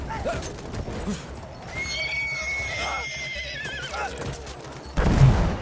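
Horse neighing and whinnying in the Battlefield 1 war game, repeated calls with hoof clip-clop and battle noise underneath, ending in a loud low thump.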